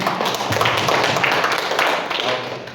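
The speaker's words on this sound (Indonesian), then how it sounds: "Jadi tepuk tangan dulu amat ketua sekali lagi" Applause for a chairman at a community association gathering, short and dense clapping from a nearby crowd that runs continuously and tapers slightly at the close.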